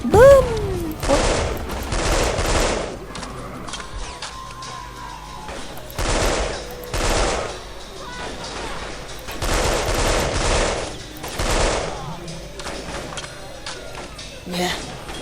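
Automatic gunfire crackles in bursts during a Delta Force: Black Hawk Down desert battle, with repeated loud volleys spaced every couple of seconds, a voice talking between them and game radio chatter in the background.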